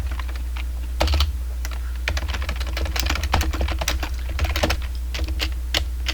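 Code is typed on a computer keyboard while scripting in RGSS3: close, rapid clusters of keystrokes in uneven bursts with short pauses, over a low steady hum and no voices.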